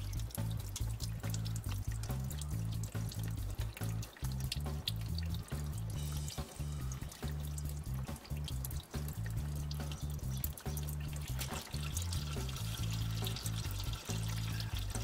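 Old transmission fluid from a Mercedes 722.9 automatic's torque converter draining steadily into a pan, a continuous loud pouring and trickling with no speech over it.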